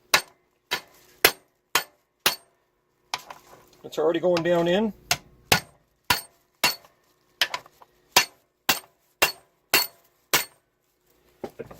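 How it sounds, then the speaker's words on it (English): Sharp metallic hammer taps drive a bushing into a G-body front upper control arm in a steady series, about one per half-second, close by, pausing briefly while someone speaks. "I've got this piece which allows me to hammer down on this."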